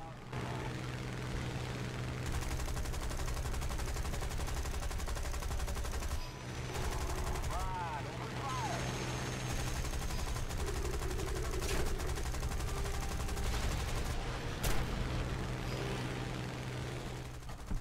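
In War Thunder, a Hawker Hurricane's eight 7.7mm Browning machine guns fire in long, steady rattling bursts over a constant aircraft engine drone, with only brief pauses between bursts.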